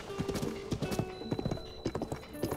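A wild horse's hooves clip-clop in steady, evenly paced beats in Zelda: Tears of the Kingdom, set against soft sustained musical tones.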